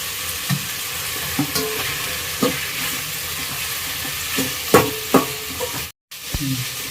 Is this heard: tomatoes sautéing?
yes